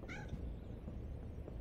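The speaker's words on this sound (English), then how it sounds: "I continue to hear meowing" A cat meows once, short and faint, in the Harry Potter and the Order of the Phoenix PC video game, over a low ambient background with no speech.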